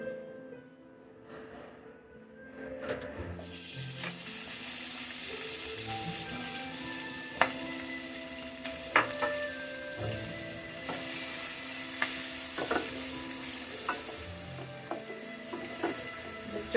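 Whole garam masala of bay leaf, cinnamon and cloves drops into hot oil and starts a steady close sizzle, with a spoon scraping and clinking against the pan at intervals as it is stirred.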